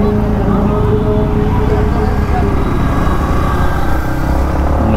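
A Yamaha MT 15 V2.0 motorcycle engine hums steadily while riding, a continuous close rumble with road and wind noise that holds level throughout.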